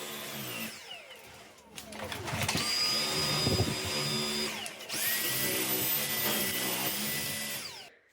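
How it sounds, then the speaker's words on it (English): A Dyson V8 cordless vacuum picking up pet hair, its motor whining up in two long high-pitched bursts with a brief drop between, close and loud. "it clearly shows how great the Dyson V8 is at cleaning up pet hair"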